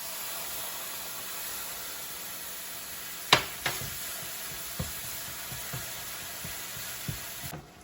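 Spices toast in oil for an Indian-style chicken curry, a steady faint sizzling hiss, then yogurt goes in and sharp pops and crackles break out, a few scattered spits following.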